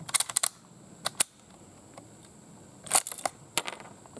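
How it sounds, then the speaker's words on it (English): Swedish 1896 Mauser rifle fired at a 100-yard range, sharp distant cracks in short clusters with gaps between them, faint and thin in a quiet outdoor setting. "let's get into shooting them some. Alright, we're going to start out with 5 rounds down at 100 yards."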